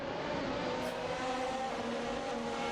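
Formula One cars in a racing sim video game, a steady high engine whine and rushing drone held loud and close throughout, with harmonic tones sustained and no pause or fade.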